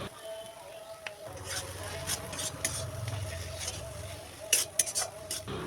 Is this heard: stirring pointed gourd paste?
yes